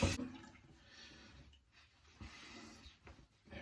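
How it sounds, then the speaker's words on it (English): A safety razor fitted with a Wilkinson Sword blade is rinsed under running water, a steady watery rush with a few brief splashes and changes in flow, close by and fairly quiet. "Let's rinse off again"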